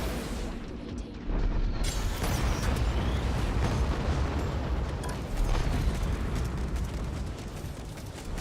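Missiles detonate in the space combat video game Strike Suit Zero, a heavy, rumbling roar of explosions that swells after a brief quieter moment and keeps booming loudly throughout.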